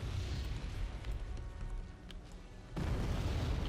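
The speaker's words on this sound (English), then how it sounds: "Oh no, actually mortars. Heavy mortars, 120 mils." Heavy 120 mm mortar fire in the strategy game Wargame Red Dragon, a sustained rumbling barrage of low booms that dips briefly near the end, then surges back loud again.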